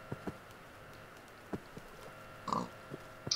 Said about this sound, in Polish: prowadzę dwie świnki na raz.